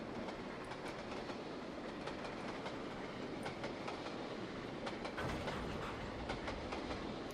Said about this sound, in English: this train's actually very good at slowing down